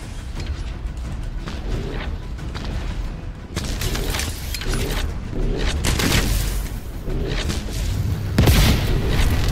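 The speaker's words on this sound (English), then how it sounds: "this rocket launcher is really good" Rocket launcher fire in the shooter game The First Descendant, a run of heavy booming blasts and rumbling explosions with mechanical clatter, loud and close, building toward a strong impact near the end.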